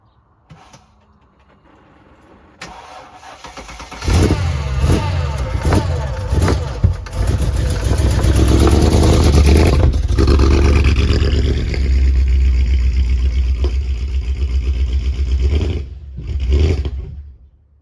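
A Mercedes AMG bought already broken, fitted with a methanol tank, starts up in a garage. The engine cranks and catches, then runs loud and close with a rough, rising rumble for about twelve seconds before cutting out.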